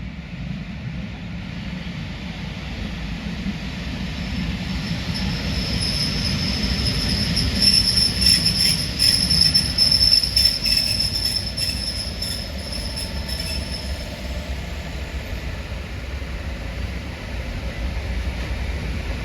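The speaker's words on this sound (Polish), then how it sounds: "I mamy wjazd pociągu Regio ze Suchej Beskidzkiej." A Regio train from Sucha Beskidzka pulls into Zakopane station with a steady rolling rumble. Sharp, high wheel squeals rise in the middle of the approach, and no one speaks.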